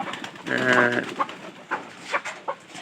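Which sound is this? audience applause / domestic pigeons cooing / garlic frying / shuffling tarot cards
domestic pigeons cooing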